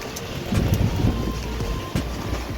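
Heavy rain falls outdoors near a residential society and vegetable stalls, a steady dense hiss with some wind rumble, fairly close and continuous.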